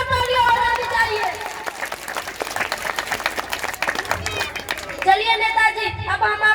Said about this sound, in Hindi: इसी बात पर नेताजी के लिए एक बार जोरदार तालियां होनी चाहिए।